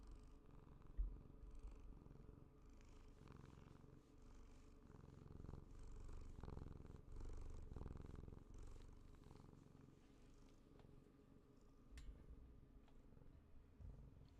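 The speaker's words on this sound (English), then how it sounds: "He's purring so loud right now." A male house cat purrs loudly and close by, a continuous low rumble that swells and eases with each breath for over ten seconds in a quiet room.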